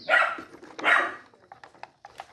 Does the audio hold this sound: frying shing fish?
no